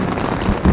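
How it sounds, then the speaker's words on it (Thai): Heavy rain from a storm in Orlando pours steadily and densely on surfaces nearby, a brief loud wash with no voices. "ดูสภาพบรรยากาศไม่ใช่ฝนธรรมดานะ"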